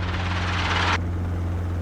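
Helicopter in flight during a training lesson, with a steady close rotor and engine drone throughout and a brighter whine that drops away about halfway through.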